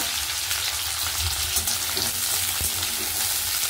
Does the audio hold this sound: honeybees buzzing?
no